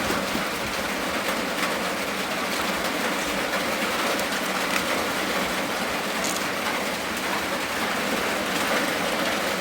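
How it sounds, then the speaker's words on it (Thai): Steady rain pours down outside in a constant broadband hiss that holds level throughout, close and fairly loud, with no voices. "ฝนตกเนาะ"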